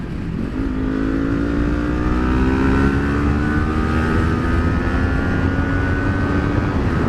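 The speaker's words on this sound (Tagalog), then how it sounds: "Check natin yung wind noise niya dito." Wind rushing inside an AGV K1 full-face helmet with the visor down on a motorcycle, a loud, steady roar with a droning engine note rising gradually in pitch underneath.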